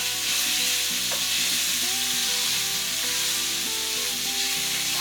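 Mallard duck frying in a very hot pan makes a loud, dense, unbroken sizzle close by, with a faint tonal hum underneath and no speech.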